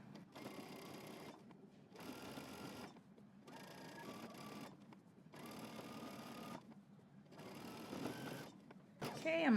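A sewing machine runs along a jumpsuit seam in fairly quiet, close bursts of steady whirring, four runs separated by brief pauses.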